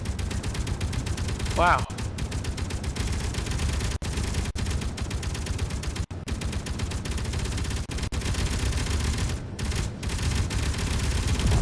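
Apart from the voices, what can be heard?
gunfire in a video game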